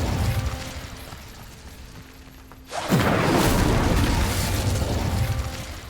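A quiet, humming stretch in Hogwarts Legacy gives way to the Incendio fire spell, which erupts with a sudden booming burst. It is followed by a sustained, loud roaring crackle of flames that stays strong to the end.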